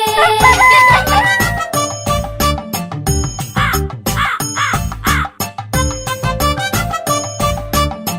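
A cartoon rooster crows inside a Hindi children's animal rhyme. The cock-a-doodle-doo calls ring out loudly over a bouncy music backing with drums and melody.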